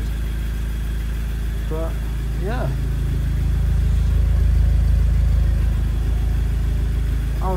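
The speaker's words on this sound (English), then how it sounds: "Looks like we're idling quite nicely." An Audi S3 8P engine idles steadily after its high-pressure fuel pump internals were fitted, a smooth low hum that swells slightly midway, with someone talking briefly over it.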